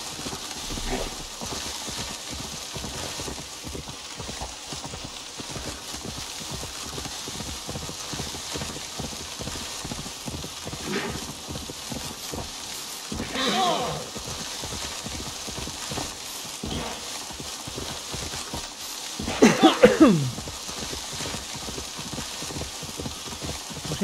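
Horses trot along in Assassin's Creed Valhalla with a steady rhythmic clip-clop of hooves throughout. Two short whinnies rise above the hoofbeats, one of them louder.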